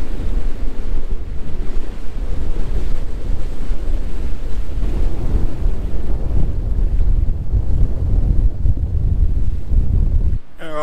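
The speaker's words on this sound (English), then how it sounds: "It has been really windy again here today, so we're kind of like sheltering." Strong wind buffets the microphone in a continuous roar over a low wash of ocean surf behind coastal dunes on the Indian Ocean, steady and loud throughout.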